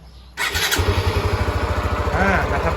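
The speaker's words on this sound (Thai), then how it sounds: "ฟังเสียงเลย สตาร์ทง่ายนะครับ" A used Honda Sonic 125 motorcycle with its original carburetor starts up close by: a brief cranking burst catches quickly and settles into a fast, even idle with a rapid, regular pulse.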